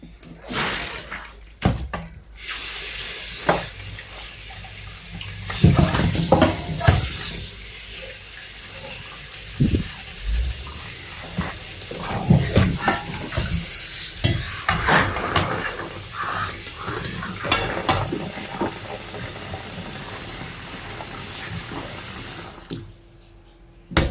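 Water runs and splashes as black beans and chickpeas are rinsed in a kitchen sink, with irregular bursts of pouring and sloshing over a steady tap hiss for most of the stretch.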